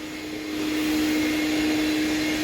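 A vacuum cleaner runs steadily while cleaning the interior of a Honda car, a continuous close whine with a steady hum that swells slightly in the first half-second and then holds loud and even.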